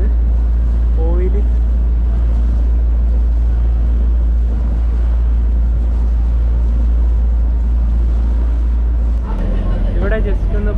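A boat engine drones steadily and loudly on the water near Willingdon Island in Kochi, with wash and wind noise throughout and a voice talking over it near the end.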